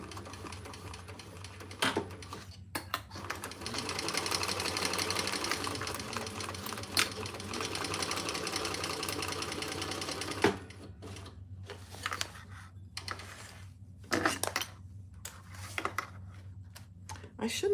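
A sewing machine stitches a basket seam in a rapid, continuous whirring run for several seconds, then stops and restarts in short bursts, with quiet talk in the background.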